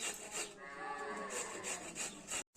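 Indian gooseberries (amla) are grated by hand, making a quiet, close, rasping rub that runs steadily for a couple of seconds and then stops abruptly.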